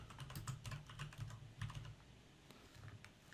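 Computer keyboard typing while entering text in a Word 2016 document. Quick, fairly quiet key clicks come in an uneven rapid rhythm, with no talking.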